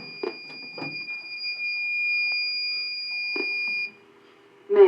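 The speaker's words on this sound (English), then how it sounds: "The signal you have just heard indicates a report of a fire in this building." A Notifier NFW-100 fire alarm panel with NFV-25/50 mass notification sounds its signal inside a building: a few short bursts, then a sustained high electronic tone lasting about three seconds before it cuts off.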